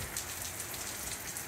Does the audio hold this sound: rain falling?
yes